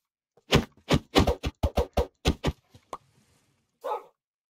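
Dog barking in Minecraft survival: a quick run of about nine sharp barks in rapid succession, loud and close, followed by a pause and one more bark, with no talk over them.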